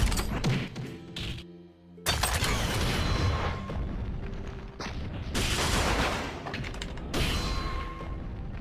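Bursts of gunfire from guns in the fantasy online game Mabinogi, loud and dense with impacts and crashes, pausing briefly near the start and then continuing steadily.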